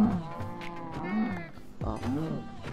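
Cows low in a video-game cattle pen, one long moo followed by another, both close and fairly loud, while a voice talks quietly underneath.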